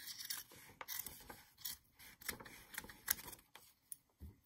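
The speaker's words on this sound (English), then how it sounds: "I want to trim my fabric, the seam" Scissors snip through the fabric seam allowance of a tiny paper-pieced heart block, a series of soft, close, irregular cuts and scrapes with short pauses between them, quiet and with no talking.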